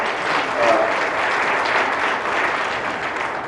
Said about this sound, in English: So let's just give him a little round of applause for that.